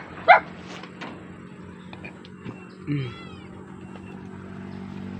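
Dogs and cats are fed fish bones. A cat gives one short meow near the start, followed by a few faint dog whimpers and scattered scuffling sounds over quiet background ambience.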